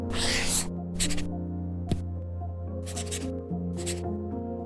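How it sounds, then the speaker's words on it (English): A pen writing on a reMarkable Paper Pro tablet, its nib scratching and stroking the surface in short bursts separated by pauses, close and fairly quiet over a steady low background tone. "That's not paper. It's the sound of the new Remarkable Paper Pro,"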